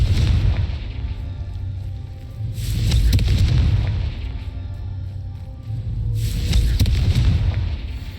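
Two booming Confringo blasting-spell explosions in the video game Hogwarts Legacy, each a loud broad burst with a rumbling tail, the second arriving a few seconds after the first.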